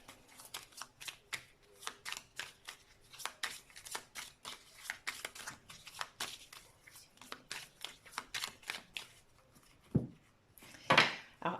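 Tarot cards are shuffled and cut by hand in a quiet room, a rapid run of soft papery riffles and flicks in quick rhythmic bursts, with a couple of sharper taps near the end.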